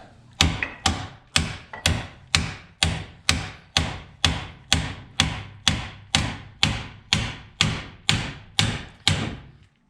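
A hammer strikes metal car parts on a Mazdaspeed3 during an air suspension install, in a steady rhythm, about sixteen sharp ringing blows close by, each decaying quickly before the next.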